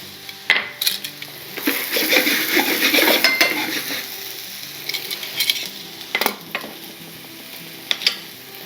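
Garlic and green onions sizzle in a pan while preparing chicken marsala, the steady frying hiss broken by scraping stirs, metal utensil clinks and pan knocks, close and clear with no talking.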